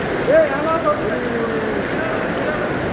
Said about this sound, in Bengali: দেখেনি আমাদের গ্লাসে বাড়ি দিতেছে ফুল বৃষ্টি